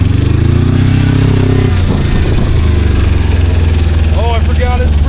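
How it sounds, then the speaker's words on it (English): Diesel ATV fitted with drift tires revving hard at full throttle in muddy ground, a loud continuous engine roar with rising pitch, brief tire-spin clatter, and a voice speaking near the end. "I just full throttled it right there, and it spun those things like nothing."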